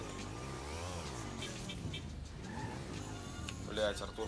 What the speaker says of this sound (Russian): Кевин, мотоцикл здесь